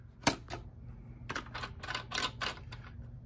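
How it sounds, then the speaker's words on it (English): A tennis racket stringing machine's clamps snap onto the cross strings: one sharp click, then a quick cluster of about six close, clacky mechanical clicks and snaps, fairly quiet with no talking. "Base clamp, clamp, clamp."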